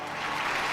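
Audience applause for a song on stage at an Amma event, a steady broadband wash of many hands clapping at once, close and moderately loud, with no voices over it.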